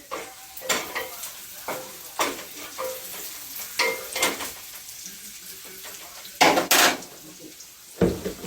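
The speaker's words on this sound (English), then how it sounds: "I'm going to stir these a bit." Mushrooms are stirred in a pan with a spoon: repeated scraping strokes and clinks of utensil on metal over a faint sizzle, close and irregular, with a couple of louder knocks.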